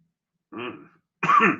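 Two short coughs sound close to the microphone, a breathy first one and then a louder, harsher second one about half a second later, with silence around them.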